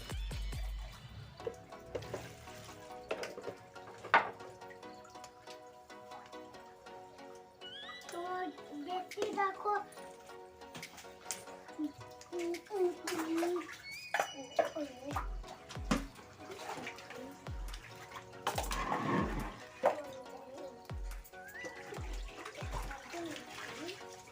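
Rice and lentils for village-style khichuri being rinsed in a bowl of water, with splashing and sloshing bursts and clinks scattered under background chatter and a voice, close and moderately loud.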